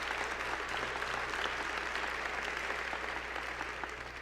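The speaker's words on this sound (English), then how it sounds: "Give yourselves a big round of applause." A large audience at an MLK Day celebration event in Chicago applauds steadily, dense continuous clapping from a big crowd that holds at full strength and only slightly eases toward the end.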